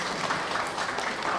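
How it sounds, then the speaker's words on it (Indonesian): An audience at a school admissions information session in Bogor claps in a steady, dense wash of applause that runs through the whole moment without a break. "Boleh tepuk tangan."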